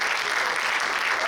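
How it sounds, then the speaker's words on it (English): Applause from an audience at a poetry celebration in a museum fills the whole short burst. The dense, even clapping is steady and moderately loud, with no voices standing out. "Thank you to every round of applause for the Carver Museum."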